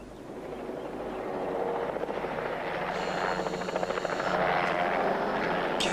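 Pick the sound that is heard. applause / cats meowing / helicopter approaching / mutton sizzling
helicopter approaching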